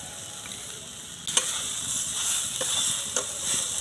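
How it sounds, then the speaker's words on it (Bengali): Grated coconut with sugar and cardamom is stirred in a wok over low heat, giving a soft steady sizzle broken by a few sharp scrapes and taps of the spatula. "অল্প জাল দিয়ে নারকেলটা নেড়ে নেব"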